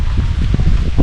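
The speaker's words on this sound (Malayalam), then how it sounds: "ഭയങ്കര നല്ല കാറ്റുണ്ട്." Strong wind blows outdoors during open-air cooking of a Kasaragod-style dum biryani, a loud, continuous low rumbling buffet across the microphone with gusty swells.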